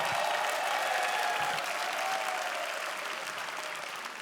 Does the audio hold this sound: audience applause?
yes